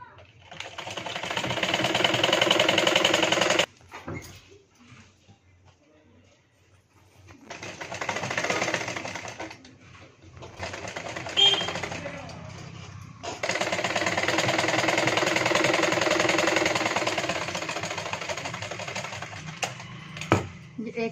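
A sewing machine stitches the inner panel of a princess-cut blouse, running in several loud rattling bursts separated by short pauses, with the longest run near the end.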